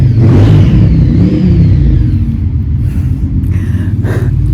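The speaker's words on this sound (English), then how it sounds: "it's a very loud car going by." A very loud car passes close by in a garden setting, a strong engine roar and whoosh that swells in the first second and then fades steadily, with no talking.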